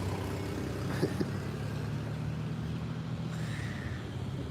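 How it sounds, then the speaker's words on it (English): A red car pulls up on an outdoor street, its engine a steady low rumble under constant traffic hum, with a brief sharper knock near the start and a faint rising whine toward the end. "another red car pulls up."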